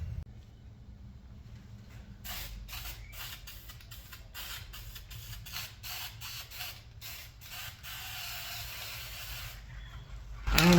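A spray can of layout dye coats a knife blade in a series of short, uneven hissing bursts, faint and close, separated by brief pauses.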